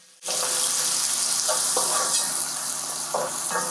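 Kitunguu (onions) cooking in a pan for egg curry, giving a steady close sizzle from start to finish, with a few soft clinks and stirring scrapes rising above it. No one talks.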